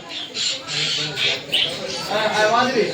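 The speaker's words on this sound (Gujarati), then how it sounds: "જો લાલ પોપટ" Parrots squawk in harsh, repeated calls, several at once, in caged aviaries at Sakkarbaug Zoo in Junagadh, over a bustle of people talking nearby.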